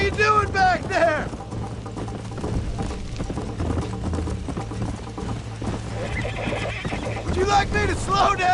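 In Red Dead Redemption, a horse neighs loudly at the start and again near the end while its galloping hooves pound steadily underneath, with people talking between the whinnies.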